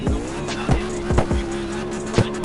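A car in the CarX racing video game drives with a steady engine tone and repeated tire squeals and skids, loud and close, with no talking.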